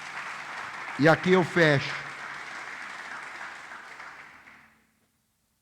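Church congregation applauding steadily at moderate volume, the clapping running under a man's brief spoken line and then fading out.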